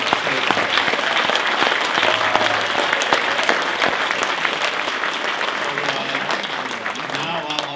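An audience at a Dale City Civic Association 50th anniversary awards event gives a round of applause, dense, loud, sustained clapping from a large crowd filling the room for the whole stretch.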